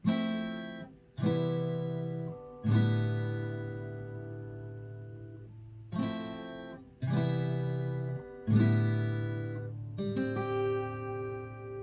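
A guitar chord is strummed several times, each strum ringing out and slowly fading before the next, heard up close with no voices.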